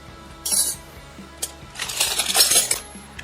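An 1877 Niagara Falls Company silver-plate iced teaspoon clinks and rattles as it is handled, making a few bright, sharp metallic chinks close up, including one isolated tap and then a busier cluster of jingling against other flatware.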